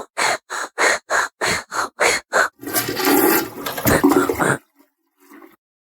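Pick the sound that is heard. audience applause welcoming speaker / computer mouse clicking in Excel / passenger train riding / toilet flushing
toilet flushing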